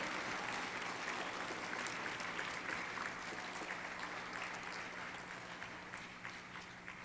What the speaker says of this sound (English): let's just give a big round of applause for all our veterans, past and present